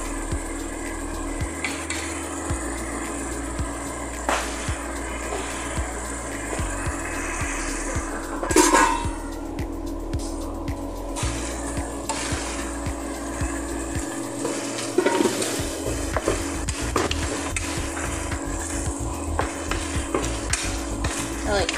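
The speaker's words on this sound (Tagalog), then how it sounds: "then isimmer lang natin ng few minutes" Sautéed string beans cook in a pan with a soft continuous sizzle, punctuated by occasional clinks and scrapes of a utensil stirring against the pan.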